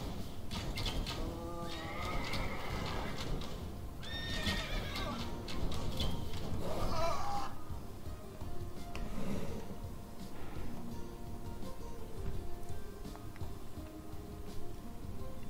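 Horses neigh and whinny in Age of Empires 2 Definitive Edition, several rising calls over clip-clopping hooves and game background sound, fairly loud and close.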